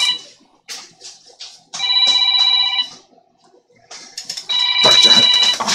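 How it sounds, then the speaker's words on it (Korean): A telephone rings indoors in two long electronic trilling bursts, loud and close, separated by short gaps and surrounded by scattered background noises. "전화 좀 받아주실라오."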